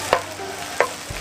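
Onion frying in a pan while being stirred during home stir-fry cooking, with two or three brief scraping strokes over a faint, steady sizzle, close and fairly quiet.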